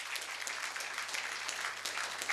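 A church congregation claps together during a Kannada worship service, a steady, fairly soft wash of applause heard from a distance with no voices over it.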